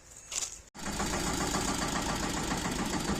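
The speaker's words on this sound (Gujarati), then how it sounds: "અમારા જિગ્નેશભાઈ ટ્રેક્ટર આગળ લે છે" A tractor engine runs loud and close in a steady, rumbling drone, after a brief cut near the start, on a farm where bundles of straw are being loaded.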